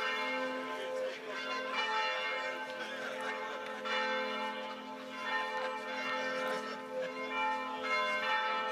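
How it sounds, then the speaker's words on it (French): Church bells ring out steadily in Romans-sur-Isère during the Masters de Pétanque finale, a continuous sustained peal with layered tones heard from a moderate distance. "Et les cloches de Romans qui sont de la fête. Ah oui, on les entend bien."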